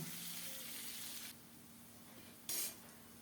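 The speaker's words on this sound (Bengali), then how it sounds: "আলুগুলো লাল লাল করে ভেজে নেব" Steady sizzle of potatoes frying in oil, a soft continuous hiss that drops lower partway through, with a brief burst of louder crackling near the end.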